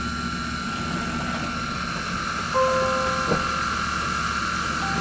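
A cheap toy drone's propellers whir in a steady, close buzz with high tonal whine, joined by a brief higher tone partway through; no talk.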